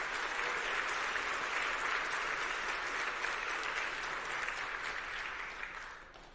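A conference audience at App.js Conf 2026 gives the React Native core team a dense, sustained round of applause that slowly tapers off toward the end.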